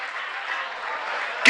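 A brief burst of audience applause at a Jain monk's religious discourse, a dense, even patter of clapping hands with no speech.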